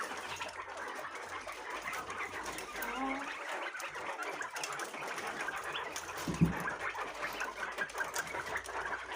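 Soft clucking and murmuring of chickens in a barn, with a low background hum and a brief thump midway.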